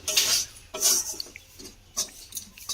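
A spoon scrapes and clinks against a pan while stirring flour into a red lentil (masoor dal) mixture, a few short, soft bursts of scraping separated by brief pauses.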